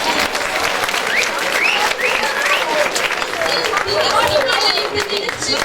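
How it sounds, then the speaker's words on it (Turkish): A theatre audience bursts into loud, dense applause after a show, with a thick wash of clapping, cheers and crowd chatter running continuously. "En büyük alkışı siz hak ediyorsunuz."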